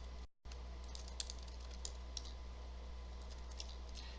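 Someone types a password on a computer keyboard at the console, producing faint, sparse key clicks over a steady low hum with no talking.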